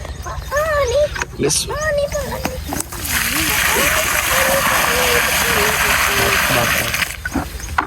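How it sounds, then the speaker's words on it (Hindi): Water is poured onto a newly planted jamun sapling outdoors, a steady rushing splash that runs for several seconds under lively talking voices. "पहले हम डालेंगे पानी"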